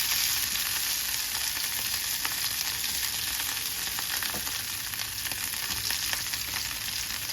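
Cumin, mustard seeds and chana dal fry in hot oil with a dense, continuous sizzle and fine crackling pops, close and steady with no voices.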